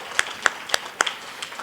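Scattered claps from an audience at a women founders' salon event, about six distinct sharp claps spaced irregularly, close and moderately loud with no talk over them.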